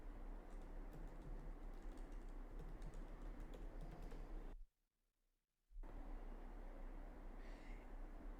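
Rapid, steady keystrokes on a computer keyboard clatter close by, pausing briefly for about a second midway before the typing resumes at the same quiet pace.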